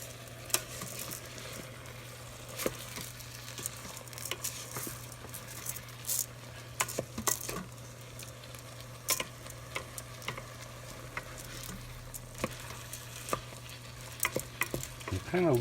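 Rice gets stirred in a Breville risotto maker with mushroom and shallot juices, soft continuous mixing under a steady appliance hum, broken by frequent light ticks and knocks of the spoon against the bowl.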